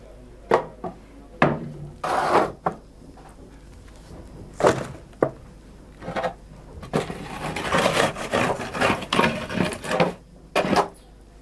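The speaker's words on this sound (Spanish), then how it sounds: "Cojo la pala para poder meterlas más fácilmente." Unbaked loaves slid one by one into a hot oven on a peel, giving a run of sharp wooden knocks, scrapes and thuds in uneven bursts, close and fairly loud.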